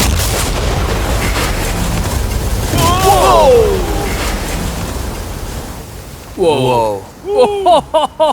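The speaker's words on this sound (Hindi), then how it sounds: "वो धमाका बहुत ही विशाल होगा।" Huge explosion of a mega sea bomb carried on an RC boat striking a yacht: a loud, broad roaring blast with rumbling debris noise, followed by excited voices at the end.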